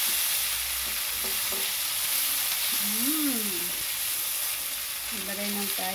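Onion and tomato sizzle steadily in a hot pan, a constant bright frying hiss with a few soft utensil scrapes and faint background sounds beneath it.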